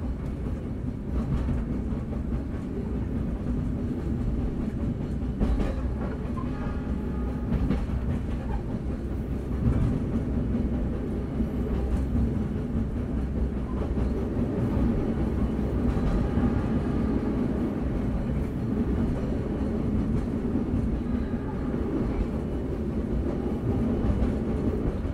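Steady, continuous rumble of the KA Brawijaya train rolling along the rails after leaving Bekasi station, heard from inside an executive-class carriage, with faint rattles and clacks throughout.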